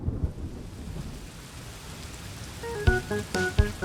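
Steady rain falling during a first-rain storm in a children's cartoon, a soft continuous hiss broken by a few low thunder thumps near the end, with light tonal chimes joining late.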